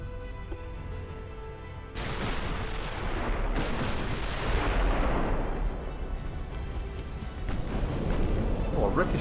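Naval artillery firing and 14-inch shells striking in the Ultimate Admiral Dreadnoughts battlecruiser game, with heavy booming blasts and a long rumbling roar that build over several seconds, loud and sustained.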